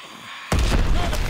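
A grenade goes off in Call of Duty WWII, a single abrupt loud blast breaking a quieter background and ringing on as a dense, booming roar.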